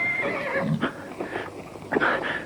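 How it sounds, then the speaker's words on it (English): A horse whinnies up close, with hooves clattering in a loose rhythm beneath and between the high neighs. "That sounds like hooves. Horses' hooves."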